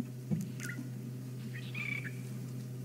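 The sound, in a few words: drongos calling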